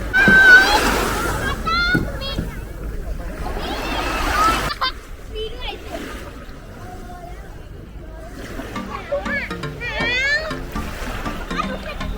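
Children splash and play in shallow sea water off a Pattaya beach beside a family hotel, with paddling from a small boat nearby. Broadband sloshing and splatter runs throughout, mixed with kids' chatter and adult voices close by.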